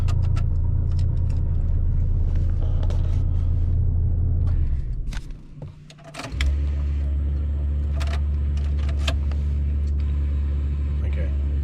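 A turbocharged car engine runs with a loud, steady low rumble, dips briefly about halfway through, then settles back into the same even idle.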